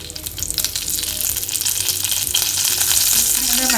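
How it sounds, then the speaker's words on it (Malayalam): Dried red chillies and curry leaves fry in hot oil in a kadai, a loud, dense, continuous sizzle and crackle that grows brighter toward the end, with no talking. "ഇനി നമുക്ക് ഗാർണിഷ് ചെയ്യാൻ വേണ്ടിയിട്ട് അല്പം വറ്റൽ മുളകൊന്ന് ഫ്രൈ ചെയ്തെടുക്കാം."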